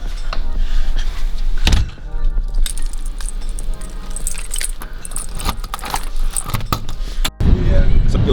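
Keys jangling and clinking close by, with a few thunks and rustles from gathering a bag, and a voice speaking briefly over the metallic chinks.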